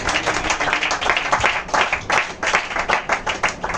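Congregation at a revival church meeting clapping together in thanks to God, a steady, dense patter of many hands sustained throughout at moderate loudness, with faint voices mixed in.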